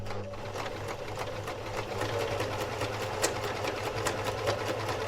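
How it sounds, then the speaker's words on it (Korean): A pedal-driven treadle sewing machine stitches cloth in a cramped room in 1976, producing a steady, fast mechanical chatter with rhythmic needle clicks that runs continuously and close by. "재봉틀 소리는 이 좁은 방의 유일한 배경음악이었고"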